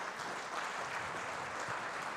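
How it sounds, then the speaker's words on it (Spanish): Soft, distant applause from conference attendees sending off panelists at a family-law congress, a continuous low wash of clapping with no voices. "Invitamos a nuestros asistentes a despedir a nuestros panelistas con un fuerte aplauso nuevamente"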